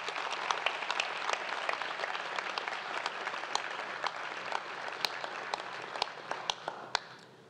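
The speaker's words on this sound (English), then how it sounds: "Please, let's give them a round of applause." Applause from an audience at a Founders Day ceremony, a steady dense patter of many hands clapping at moderate distance, with sharper individual claps standing out near the end as it fades.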